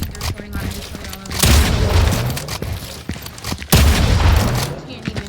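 Bursts of gunfire and booming shots from a shooter video game, with two heavy volleys standing out against a continuous background of game noise.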